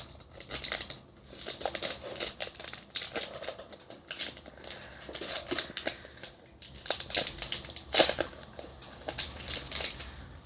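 A Pokémon XY Ancient Origins booster pack's foil wrapper crinkles and tears as it is slowly worked open, a close, continuous rustling and crumpling with sharper crackles now and then, in a quiet room.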